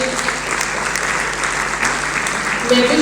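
Audience applause at the Women Entrepreneurship Awards 2024 ceremony: dense, sustained clapping from a large crowd fills the room for the whole stretch and swells slightly at the end, with a faint voice underneath.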